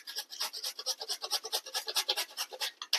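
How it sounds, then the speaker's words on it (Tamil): A carrot grated by hand in a home kitchen, quick rhythmic rasping strokes, close and clear, each pass a short bright scrape in a steady run with no talking. "கேரட்டை நம்ம துருவி எடுத்துக்கலாம்."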